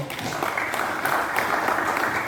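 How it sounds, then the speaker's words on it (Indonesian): Steady applause from an audience at a formal Indonesian organisation event, a dense, continuous patter of clapping filling the whole short stretch. "tepuk tangan untuk beliau"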